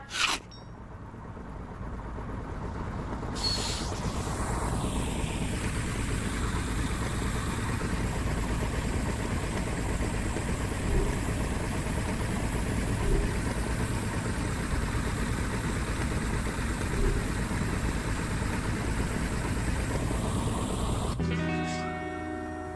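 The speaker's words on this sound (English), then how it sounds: "The engine is engaged and we are starting our ascent." A video game escape pod engine hums in a steady drone for about twenty seconds after a brief start-up, ending with a burst of clicking mechanical noise.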